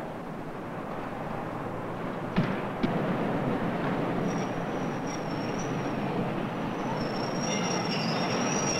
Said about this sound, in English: 1322 Kirkdale train, platform 8.